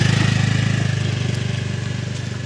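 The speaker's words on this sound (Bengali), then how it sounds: "আজকে স্কুটি ড্রাইভিং হচ্ছে এখানে আসছি" A scooter engine running steadily close by while being ridden at a park, with a fast, even putter that fades slightly over the couple of seconds.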